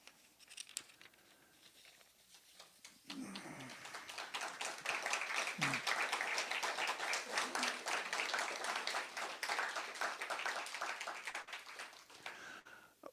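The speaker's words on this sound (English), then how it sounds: "thank you for the applause and the acceptance" Audience applause at a storytelling festival, sustained dense clapping swelling after a quiet start and fading out, with some talk before it begins.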